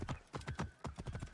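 Horse hooves clip-clop in Assassin's Creed Origins, a quick run of soft, evenly spaced hoofbeats heard faintly with no other sound.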